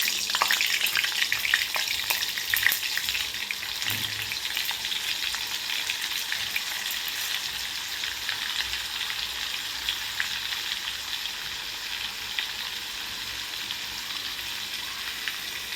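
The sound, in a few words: butter and oil heating and sizzling in a pan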